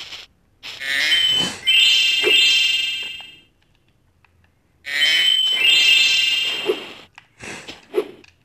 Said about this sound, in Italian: Una rana, rana.